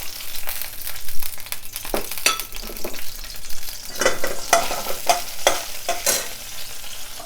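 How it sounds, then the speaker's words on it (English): Chopped garlic fries in oil in a pan for chicken rogan josh, a close, lively crackle broken by repeated scraping strokes of a stirring spoon, with no talking. "A little bit of garlic on the oil."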